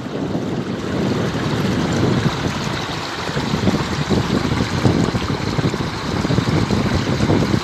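Sewage gushes through a disguised discharge outlet straight into the sea at Algés, Oeiras, a loud, steady broadband rush of pouring water that continues without a break.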